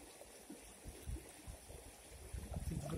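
Gold-bearing sand is rinsed with clean water in a pan during gold prospecting. Soft, irregular sloshes and gurgles come close by and stay faint, with a few louder swirls near the end.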